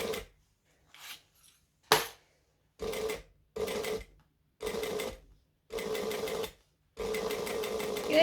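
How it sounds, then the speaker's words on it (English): A sewing machine stitches slowly along the bottom seam of a bag in short, separate bursts, about seven runs that grow longer, close and fairly quiet with silence between them. "I am going to start in the corner and I'm going to back stitch. And then I am going to stitch very slowly."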